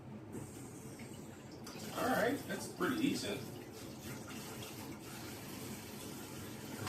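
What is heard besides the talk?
tap water running while washing dishes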